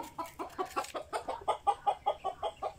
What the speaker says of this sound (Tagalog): Biyaheng manok na dito pa puputak ng puputak.